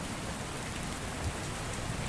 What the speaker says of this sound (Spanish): la lluvia era más fuerte